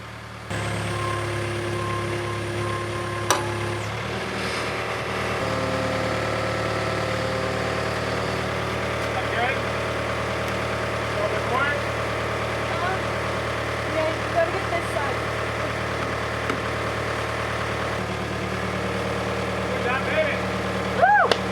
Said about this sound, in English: The skid steer jib boom came in handy yet again to lift this wall up and over the pipes